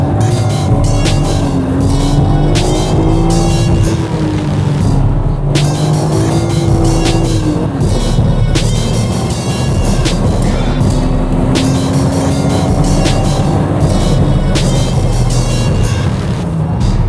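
A car of about 280 horsepower driven fast on a road in Japan, its engine loud and close, rising in pitch through each gear and dropping briefly at shifts, with continuous roar and road noise.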